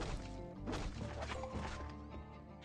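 Glass shattering in the survival video game Last Day on Earth: a dense run of crashing, smashing impacts over a steady bed of game music, loud and continuous throughout.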